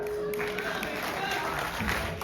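Audience clapping at a stand-up comedy show at an SBI training center in Noida, a continuous moderate patter of many hands with a faint voice briefly audible underneath.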